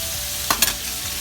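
Food fries in a preheated stainless steel pan, giving a steady, soft sizzle with a couple of quick utensil clinks from stirring just past the midpoint.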